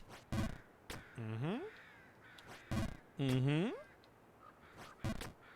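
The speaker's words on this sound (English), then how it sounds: "Oh, and there's the bird yet again." Crow cawing in a video game, two drawn-out descending caws plus a few short bird calls, moderately loud over game background sounds with brief voice-like bursts.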